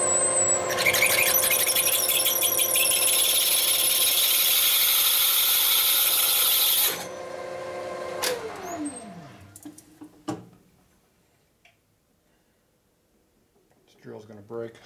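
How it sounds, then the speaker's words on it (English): A drill grinds against the ratchet plate of a 1960s Harley-Davidson XL Ironhead kicker gear, a loud steady high-pitched whine lasting several seconds, then winding down with a falling tone, followed by scattered clunks and quiet. "This drill's going to break"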